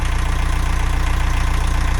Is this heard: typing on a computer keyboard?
no